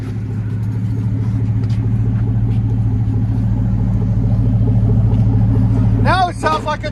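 A 2004 Chevy Avalanche's 5.3L V8 with a Flowmaster Flow FX exhaust idles in a steady, deep, low rumble close by, with a brief bit of chatter near the end.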